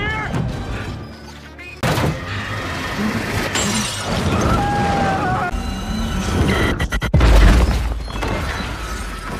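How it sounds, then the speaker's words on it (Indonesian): A machine explodes in a film scene, heard as a loud shattering blast with crackling debris and gunfire-like bursts over a dense, busy soundtrack, followed by a heavy low boom near the end. "Mesinnya pun meledak."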